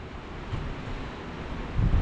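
Strong wind roars steadily across the microphone with heavy low rumbling buffets, a broad constant rush with no voices, on a Greek island.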